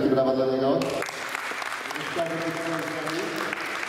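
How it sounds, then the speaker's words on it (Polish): A crowd applauds a referee at a 3x3 basketball cup event, steady clapping that continues after a voice over a loudspeaker fades out. "Wielkie brawa dla niego."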